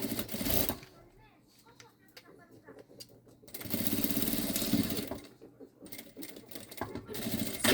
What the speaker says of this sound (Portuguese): vou passar uma costura